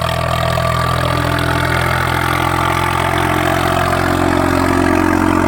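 Swaraj 855 tractor engine running at steady revs in high gear, a loud, continuous diesel drone with strong low harmonics and no pauses, close to the microphone.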